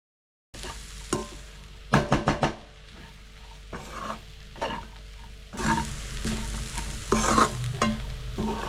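Puffed rice tossed with masala in a pan for village-style uggani, with irregular scraping and rustling stirs over a low sizzle, close, starting after a brief silence.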